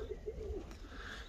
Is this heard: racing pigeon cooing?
yes